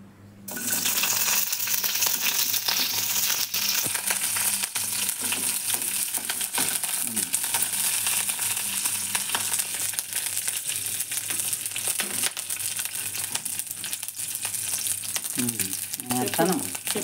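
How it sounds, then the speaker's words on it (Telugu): Green chillies sizzling in hot tempering oil for a chutney, a steady loud frying hiss running throughout, with small crackles and pops rising near the end. "ముందు తాలింపులో ఇది వేయింతాను"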